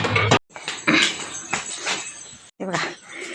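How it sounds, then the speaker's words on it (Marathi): Young puppies on a farm give short yips and whimpers in several close bursts, with brief silent gaps between them. "कुत्र्याचं पिल्लू आलेत"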